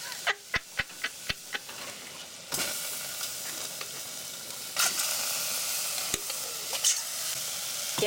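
Canned chili heating in a pan over an off-grid stove, with a series of sharp spoon taps on the pan at the start, then a steady sizzle and scraping stir running close and clear with occasional knocks.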